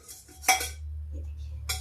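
A spoon scrapes and clinks against a metal pot while cooked sabji is served into a bowl, giving a few short, close metallic taps and one sharper clank.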